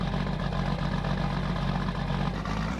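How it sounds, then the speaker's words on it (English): John Deere 8760 tractor engine idling in the Farming Simulator 19 video game, a steady low rumble that stays loud and even, with no talk. "I'm gonna do like the sound of this tractor."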